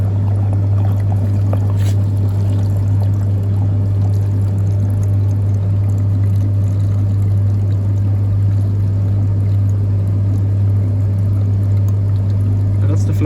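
Water pours and splashes continuously into a Beko heat pump tumble dryer during testing, over a loud, steady mains hum, with faint rustling and no talking.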